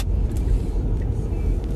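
Car interior on an early-morning drive, with a steady low road rumble and engine hum that stays constant and fairly loud, with no talk.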